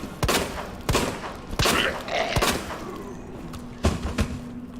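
Gunfire in the survival horror game Resident Evil 2: about six loud, close shots ring out in an uneven rhythm, each with a brief echoing tail.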